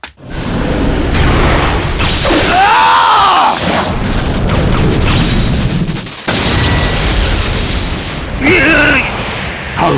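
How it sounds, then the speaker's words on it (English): Wind Style Vacuum Wave Barrage from Naruto Shippuden Ultimate Ninja Impact tears out as a series of loud booming blasts and whooshing bursts, with a dramatic voice shouting during the attack. "Wind style, vacuum wave barrage!"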